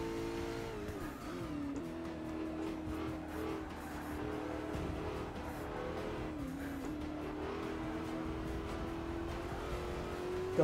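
A McLaren 12C race car accelerates on track in a racing game on its final lap, a steady engine drone that rises and shifts through gears over ten seconds, moderately quiet with faint tire noise.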